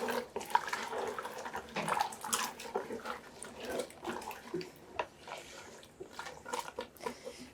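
Boiling water is poured onto fava beans and paprika in a pot, giving irregular splashing and gurgling bursts, close and moderately quiet, with a short pause partway through.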